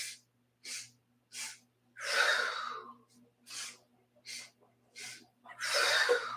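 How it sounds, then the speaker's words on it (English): Yoga breath-of-joy breathing: sets of three short, sharp inhale sips followed by a longer, forceful exhale, repeated close up and clearly audible. "breath of joy. Inhaling 3 sips."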